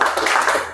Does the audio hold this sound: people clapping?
yes